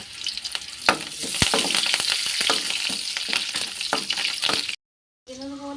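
Prawns frying in a pan with curry leaves, a loud steady sizzle with crackling pops and stirring clatter, then a brief silence before the sizzle resumes.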